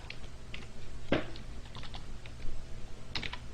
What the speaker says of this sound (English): you may start typing your email